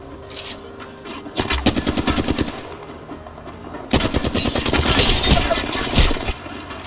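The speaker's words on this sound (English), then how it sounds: "I'm getting shot." Sustained automatic gunfire in the Apex Legends video game while the player comes under fire, rapid bursts of shots in two long stretches with a brief lull between, loud and close.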